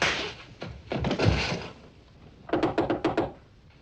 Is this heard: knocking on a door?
yes